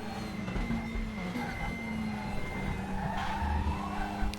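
Racing car tyres squealing and skidding in the sim racing game RaceRoom, a steady engine drone with sliding tyre noise running through the whole stretch at moderate level.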